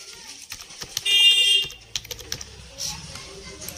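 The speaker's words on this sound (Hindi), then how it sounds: "आपको यहाँ पे मेल आईडी टाइप करना है जिसको आपको भेजना है।" Someone types an email address on a computer keyboard, a close run of quick, uneven key clicks with brief pauses between bursts. A short electronic beep cuts in partway through.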